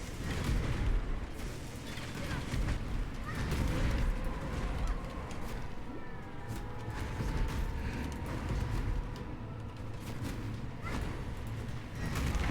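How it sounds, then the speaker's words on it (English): Repeated booming blasts and crackling impacts from a Path of Exile skill over a continuous rumbling background, with sharp hits scattered throughout. "it's the Sun Prism Herald that makes those explosions"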